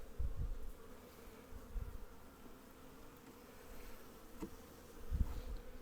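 A swarm of honey bees being installed into a hive box, their buzzing a steady, even hum with a few louder bursts close by.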